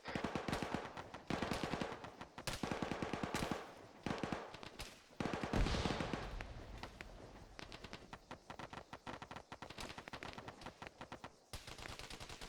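Rapid bursts of automatic rifle fire during military training, loud and close, with repeated volleys separated by brief pauses and a sharper blast near the middle.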